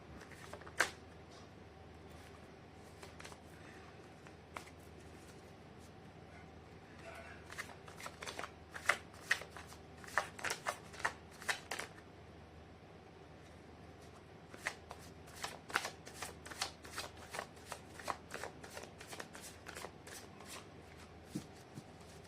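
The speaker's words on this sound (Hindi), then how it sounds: "कर लेती हूँ कार्ड की शफलिंग" A deck of tarot cards is shuffled by hand in a quiet room, with faint riffling at first, then rapid runs of crisp, close card flicks in bursts, and no talking.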